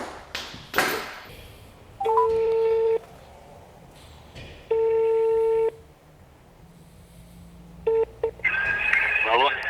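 A telephone rings with an incoming call in an engine overhaul repair shop, sounding in evenly spaced bursts of about a second each with pauses between, loud and close, followed by a few short tones.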